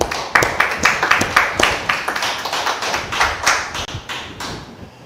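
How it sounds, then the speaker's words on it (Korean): Korean church congregation at a Sunday worship service breaks into applause, a steady wash of many hands clapping close and loud for several seconds with no voices over it. "하나님께 영광의 박수를"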